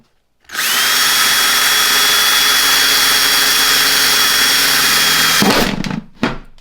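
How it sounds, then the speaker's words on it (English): A power drill whines loudly and steadily for about five seconds while drilling holes in a plant pot, then cuts off, followed by a couple of short bursts. "So get you a nice drill and let's drill some holes"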